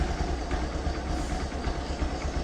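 A motorbike engine idles nearby with a steady low rumbling putter, even and continuous, no voices.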